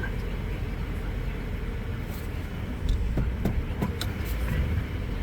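A Subaru car with a CVT transmission idles in drive and reverse, a steady low engine rumble with a few clunks and knocks midway.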